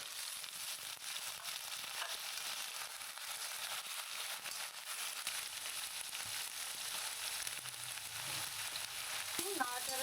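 Lau shak (bottle gourd greens) frying with potatoes in a pan for a vegetarian chorchori, a steady loud sizzle throughout with occasional scraping stirs near the end, no talk.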